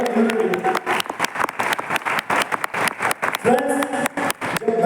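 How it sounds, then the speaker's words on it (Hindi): An audience at a business achievers training program in Lucknow claps hard in dense, irregular bursts, broken by short pauses. A voice carries over the noise. "जोरदार ताली चाहूँगा मैं"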